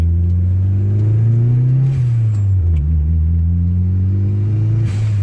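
A turbocharged car engine fitted with a Thermal R&D exhaust and an open dump O2 housing revs up and settles, giving a loud, close, steady low rumble with rising and falling pitch and no talking.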